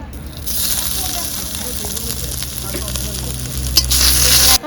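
Ginger and garlic paste sizzles in hot white oil in a wok, a steady broadband fry holding throughout with a brief louder flare near the end.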